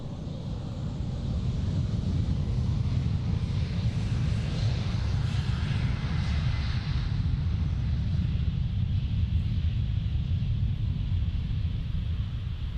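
A KLM jet, flight KL1201 bound for Stavanger, departs runway 36 left at Amsterdam Schiphol on a gloomy afternoon, giving a steady, broad low-frequency roar that holds constant for the whole stretch, with wind buffeting the microphone.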